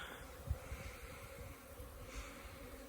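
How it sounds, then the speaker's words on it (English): Honey bees flying around beehive colonies in sunshine, giving a soft, steady buzzing hum that stays faint, with one brief louder thump near the start. "Bees flying"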